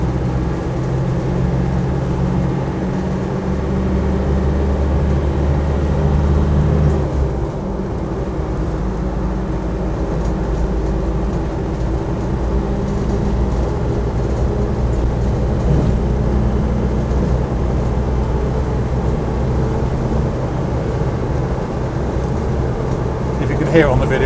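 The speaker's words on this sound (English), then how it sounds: "If you can hear it on the video, that's the tyres whining." Military tyres whine on a Land Rover Defender 90 300tdi seven-seater while driving in fourth gear, a steady low road drone with continuous engine and road noise throughout.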